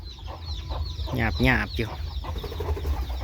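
Chickens cluck close by in a short burst of rapid, rising calls, with a person talking over and around them.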